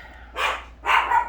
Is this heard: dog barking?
yes